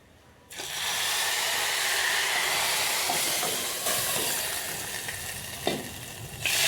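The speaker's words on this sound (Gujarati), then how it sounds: "હવે આ બધા આપણા મીઠો લીમડો અને મરચી નાખી દઈશું" Curry leaves and green chillies drop into hot tempering oil with asafoetida for Gujarati dal dhokli, bursting into a loud, sudden sizzle that stays strong, then slowly eases with a few pops near the end.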